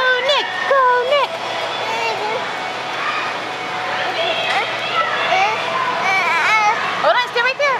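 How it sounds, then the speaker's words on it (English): A crowd at a YouTube meetup in Charlotte, North Carolina cheers on a runner named Nick, with high excited shouts and children's voices rising over a noisy babble of talk. "Come on, cheer on Nick. Go, Nick. Go, Nick."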